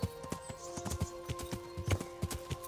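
Horse hooves clip-clopping at a steady riding pace in the video game Kingdom Come: Deliverance, evenly spaced thuds over a low game ambience, moderately close and without talk.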